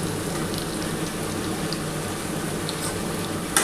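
Pointed gourd dropped into a pan of frying potato and papaya brings a constant, bubbling sizzle that runs evenly at close range, ending in a brief louder rattle, with no talk.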